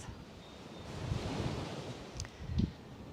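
Ocean surf on a beach in Jamaica rolls in soft and fairly distant, a low swelling wash with gusts of wind brushing the microphone and a couple of brief louder surges near the end.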